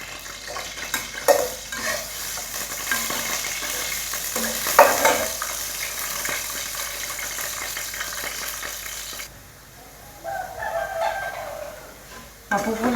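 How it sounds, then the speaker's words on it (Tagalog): Potatoes sizzle and crackle steadily in a hot pan, close by, with occasional scraping stirs and a rooster crowing faintly in the background. "Prito ko lang po ng konti"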